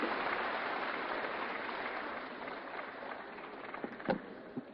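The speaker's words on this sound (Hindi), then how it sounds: "जोरदार तालियां माननीय मुख्यमंत्री जी के लिए।" An audience at a Delhi public event claps for the chief minister, a broad, even wash of applause at moderate distance, thinning slightly with a few sharper claps near the end.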